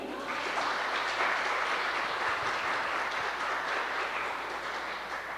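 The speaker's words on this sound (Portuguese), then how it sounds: "Vamos aplaudir?" A church congregation breaks into sustained applause, a dense, even wash of many hands clapping that fills the whole stretch at steady loudness.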